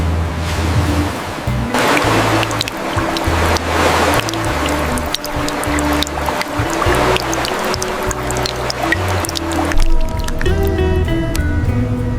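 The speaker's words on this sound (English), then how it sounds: "seawater dripped onto the deck, making a steady drip-drop sound" Steady wet drips and squishy splashes of seawater patter close by onto a boat deck, with a continuous low rumble underneath and a brighter ringing tone near the end.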